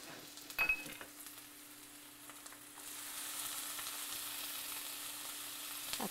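Nopales with egg, tomato and cilantro frying in a pan, a quiet steady sizzle with an electrical hum beneath and a few light clinks near the start.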